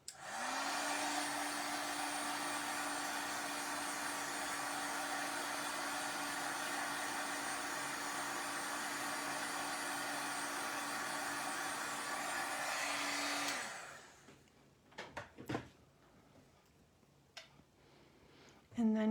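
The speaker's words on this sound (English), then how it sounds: "What I'm gonna do is just dry this butterfly a little bit." A hair dryer runs steadily at close range for about thirteen seconds while drying a painted craft butterfly, a constant whooshing roar with a low motor hum, then cuts off, leaving faint handling noises.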